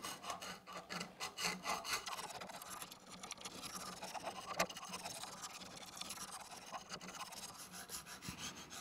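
A knife is sharpened on a Lansky guided sharpening stone, giving repeated rasping strokes in a steady back-and-forth rhythm, close and fairly loud with no talking.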